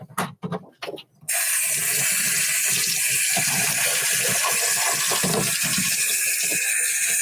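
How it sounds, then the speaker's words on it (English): Water runs steadily from a hot and cold tap while coral frags are cleaned, starting after a few brief knocks and continuing as a loud, even rush to the end. "I got hot water and cold water here."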